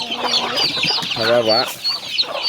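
Chicks and chickens cluck and cheep busily close by at feeding time, a short burst of overlapping bird calls with a brief spoken word mixed in.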